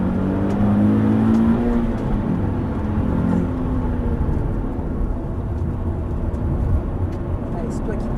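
Nissan 370Z on a race track accelerating progressively, a steady engine drone that builds gradually, with an instructor talking over it throughout.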